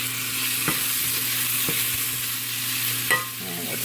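Minced garlic is stirred into sizzling caramelized onions in a pan, giving a steady close frying hiss with a few soft scraping stirs and clicks.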